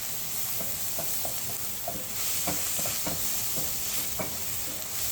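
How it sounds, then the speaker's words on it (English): Onions browning in a pan over high heat give a constant loud sizzle and hiss, with soft scraping taps of a spoon stirring through them. "This is on high heat. That way we can brown up the onions quickly."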